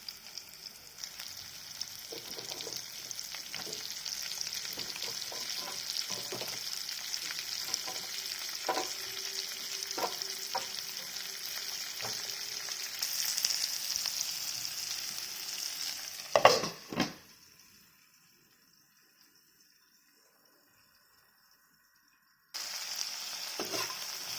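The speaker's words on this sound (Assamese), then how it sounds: "ইয়াতে কাটি থোৱা পটল আৰু আলুখিনি ফ্ৰাই কৰি ল'ম" Pointed gourd and potato pieces sizzle steadily in hot oil, with occasional stirring scrapes, before the frying cuts out into near silence and then briefly resumes.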